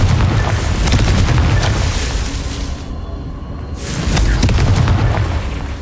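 A Confringo fire spell blasting in the video game Hogwarts Legacy, heard as loud, booming explosive rumble that fades briefly before a second heavy blast swells back.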